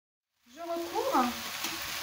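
Onions and chicken sizzle steadily in a covered tajine pot, a close, even frying hiss that starts after a short silence and holds for the rest of the moment.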